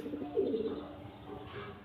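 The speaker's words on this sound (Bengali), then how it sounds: "এটা একদম অরিজিনাল অন্ধ্রা পায়রা" An original Andhra pigeon gives one soft, low coo up close, then fades into quiet room noise.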